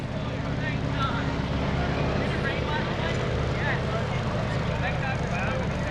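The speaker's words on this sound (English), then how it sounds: "she can't hear you over the sound of the engine and propeller" Engine and propeller of a 1940 vintage Stearman biplane at an airshow with power coming back up, a steady broad drone mixed with wind rush and a voice talking over it.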